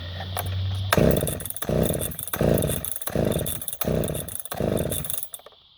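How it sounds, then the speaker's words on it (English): A flooded chainsaw's small two-stroke engine sputters through five quick pull-start bursts, each catching briefly then dying, loud and close, with a pause between pulls. "so that is a flooded chainsaw"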